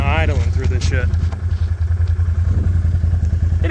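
A low, steady off-road vehicle engine idles with a chugging rumble throughout while driving through water and grass, while a person talks over it near the start.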